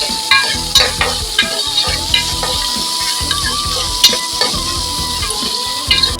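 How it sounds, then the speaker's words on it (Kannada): Chicken for a village-style curry fries in oil until brown, with a loud, close sizzle and repeated scraping, clattering stirs against the pan, and a thin, steady tone running under it; no talking. "ಬ್ರೌನ್ ಆಗೋವರೆಗೂ ಇದನ್ನ ಲೈಟಾಗಿ ಆಯಿಲಲ್ಲಿ ಫ್ರೈ ಮಾಡಬೇಕು"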